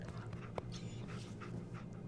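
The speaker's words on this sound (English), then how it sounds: "Finds a dog." A dog in the Fallout 4 video game pants quickly and rhythmically at close range, with a small whimper mixed in, set against a quiet steady in-game background hum.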